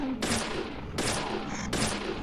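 Gunfire in the video game Deadly Premonition, three loud bursts roughly a second apart, each a broad crackling blast that decays into the next, with no talking.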